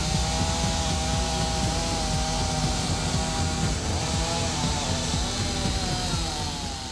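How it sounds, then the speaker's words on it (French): A chainsaw runs continuously and loud while trees are felled by loggers, the engine holding a steady high whine with slight pitch shifts as the chain bites into the wood, no voices over it. "la tronçonneuse, j'adore ça"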